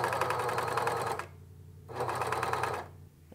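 Sewing machine stitching the last seam of a shirt, two fast rattling bursts of needle stitching separated by a short pause, close and clear with no talk.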